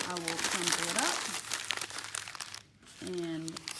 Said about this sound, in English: So I'll just open up pieces of newspaper so that I have one single piece. I will crumple it up